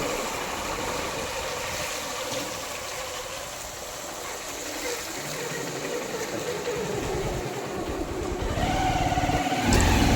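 Motorcycle ridden along a road toward a temple in Cuttack, its mid-pitched engine droning steadily with rushing wind, then rising louder near the end.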